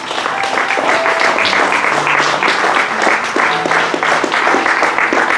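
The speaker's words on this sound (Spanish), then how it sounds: "Recibe este aplauso de tu iglesia," Church congregation clapping together in a dense, steady round of applause, with a few faint voices and tonal notes underneath, loud and close throughout.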